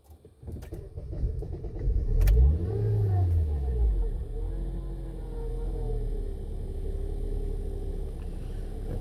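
A 2008 Honda Accord with a 2.4 engine and a reported false misfire starts up, rumbles louder, then settles into a steady, close droning hum that carries on alone.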